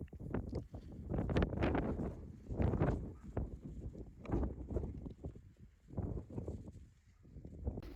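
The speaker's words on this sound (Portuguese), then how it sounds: "Agora são 7h30 e começou a ventar horrores" Strong Patagonian wind gusts in a remote, exposed spot, buffeting the microphone in loud rumbling surges that rise and fall every second or two without pause.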